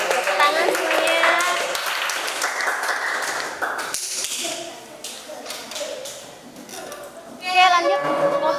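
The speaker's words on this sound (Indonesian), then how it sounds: "Tepuk tangan semuanya." Classmates clap after a group presentation during a classroom teaching session, a scattered, steady patter of hands lasting several seconds beneath ongoing talk, with a louder burst near the end.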